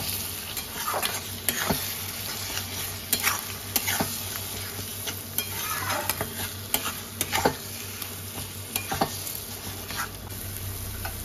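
A spoon stirs jackfruit paste with spices in a hot pan, scraping and clacking in irregular close strokes over a constant bright sizzle.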